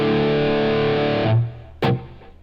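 Crunchy distorted electric guitar amp tone from a Line 6 HX Stomp: a sustained chord rings loud and full, fades out, then a short, sharp strum sounds and decays.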